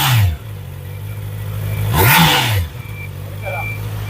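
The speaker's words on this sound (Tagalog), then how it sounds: "So yan po ang ating pinaka-screaming sound ng ating inline for CBR 650R 2024 model." A 2024 Honda CBR650R in Grand Prix Red with an inline-four engine revs sharply from idle, climbing to a high, screaming rev and dropping back, loud and close.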